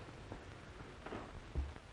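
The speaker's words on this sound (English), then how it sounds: "This old house seems to belong in the rain and thunder." Steady rain falls at night around an old house, a soft continuous wash with faint distant rumbles of thunder, no voices present.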